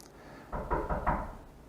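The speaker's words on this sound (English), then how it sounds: "Somebody's knocking on the door." Knocking on a room door during a recording in Indonesia, four quick raps in a row at moderate loudness, fairly close, with no talk over them.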